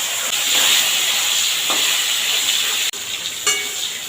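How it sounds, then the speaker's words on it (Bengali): Eggplant pieces lightly frying in oil left over from frying fish, giving a steady close sizzle and hiss throughout, with a couple of brief clinks or stirs near the end. "এখন ওই তেলেই আমি বেগুনটা একটু হালকা ভেজে ফেলে নেব"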